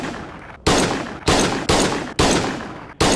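Five loud gunshots in a video game, evenly spaced booming blasts each decaying into a long echoing tail, close and with no talk.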